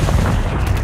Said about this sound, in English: Oh, I killed with the grenade.